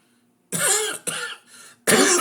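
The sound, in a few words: coughing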